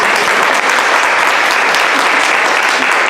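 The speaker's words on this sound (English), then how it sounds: "let's clap for them right now" Loud, dense clapping fills a staff meeting room, a continuous even roar of many hands throughout the whole three seconds, close and with no talk over it.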